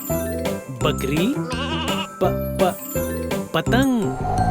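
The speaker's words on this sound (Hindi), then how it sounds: "बकरी" A goat bleats as a sound effect in an Urdu children's phonics song, a short wavering cry rising over loud music and singing.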